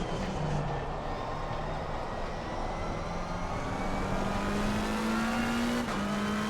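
A race car engine in Assetto Corsa Competizione holds a steady, droning high pitch that climbs slowly under constant throttle, with one quick gear-shift dip near the end; no voices.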